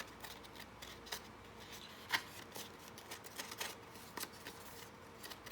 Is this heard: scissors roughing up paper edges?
yes